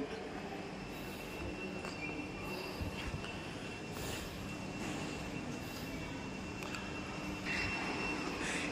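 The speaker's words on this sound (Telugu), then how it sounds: "ఏదో ట్రైన్ బయలుదేరుతుంది." Train pulling out of platform 9 at Charlapalli railway station, a distant grinding rumble with faint metallic wheel squeal and station ambience, steady throughout without speech.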